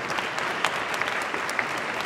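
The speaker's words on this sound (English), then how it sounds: "Y'all clapped before I said anything." Steady applause from an audience at a youth meeting, dense continuous clapping filling the room with no speech over it.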